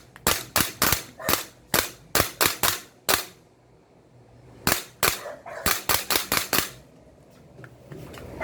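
An airsoft M4A1 gas blowback rifle fires bursts of sharp, snappy shots, two quick clusters of about ten each separated by a short pause, close and loud with nothing else around them.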